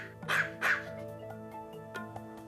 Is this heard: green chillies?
no